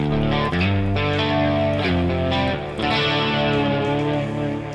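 Electric guitar with heavy fuzz distortion and a thick octave layer, sustained chords ringing out loud and alone, with a brief pause midway.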